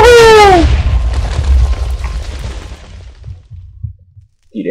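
A Minecraft TNT block detonates in one loud, close boom with a falling whistle-like tone at the start, then a rumbling tail that fades over several seconds before a brief new noise at the end.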